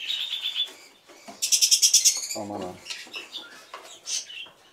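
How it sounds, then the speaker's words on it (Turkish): Opaline lovebirds at a parrot breeding facility in Bursa give a burst of rapid, high, close chirps, with quieter chattering around it and someone talking nearby. "Opalin sevda papağanı bunlar."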